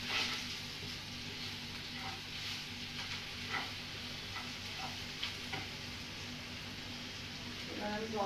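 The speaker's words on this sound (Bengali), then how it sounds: "ওটারে একটু নাড়াচাড়া করে দিলাম।" Oats fry and sizzle softly in a pan as they are stirred, a faint steady hiss with occasional light scrapes and taps of a utensil.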